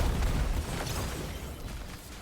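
A hand cannon firing in the Destiny 2 video game, heavy booming shots with rumbling, crackling decay that tapers off toward the end.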